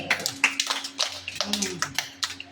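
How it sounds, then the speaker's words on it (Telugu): Children clap in scattered, uneven bursts in a classroom, a dozen or so sharp claps spread irregularly, with voices talking faintly underneath. "క్లాప్స్ కొట్టండి"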